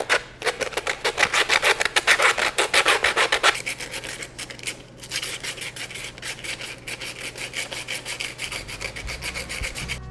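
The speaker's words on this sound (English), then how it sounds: "Start sanding." Hand sanding a 3D-printed vase part with 80 grit 3M sandpaper: fast, steady rasping strokes, loud and rhythmic at first, then a slightly softer continuing scrub, close up with no talking.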